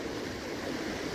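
Water flows along a small creek in a brief, close, steady rushing burble, with no voices.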